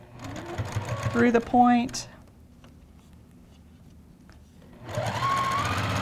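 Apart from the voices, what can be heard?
sewing machine stitching a quilt block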